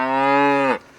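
A cow moos once up close, a loud, steady, harmonic bellow lasting under a second that tapers off abruptly, with no talking.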